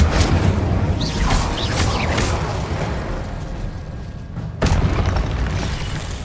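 A Confringo spell explodes during a boss battle in Hogwarts Legacy, heard as booming blasts and whooshes over a loud, dense game soundscape, with a sharp burst near the end.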